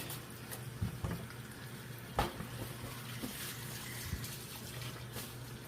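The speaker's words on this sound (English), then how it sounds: "I'm gonna rinse them over here" Cut soup vegetables for a ham bone and vegetable soup get rinsed under a running kitchen tap, giving a steady close water hiss with a few louder splashes and knocks, no talking.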